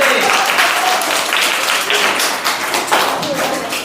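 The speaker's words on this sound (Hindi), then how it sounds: "ताली बजाएंगे इनके लिए" A classroom at a summer language camp bursts into loud, close clapping for a student's correct answer, dense rapid claps sustained the whole time with a few louder slaps.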